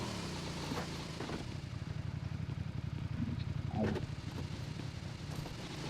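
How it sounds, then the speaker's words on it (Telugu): Engine of a two-seater motorbike in the video game BGIS: a steady, buzzing drone that runs continuously and fairly loud, with faint clatter layered over it. "నా దగ్గర బైక్ 2 సీటర్ బైక్."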